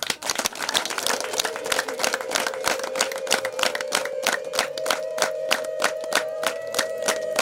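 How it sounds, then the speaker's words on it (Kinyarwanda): Wedding guests applaud together in a hall, a dense sustained round of clapping with a steady rhythmic pulse, a held musical tone running beneath it. "Ibiganza maze amashyi b'urwunge, duha abashyitsi bacu amashyi bageze hano muri uyu mwanya"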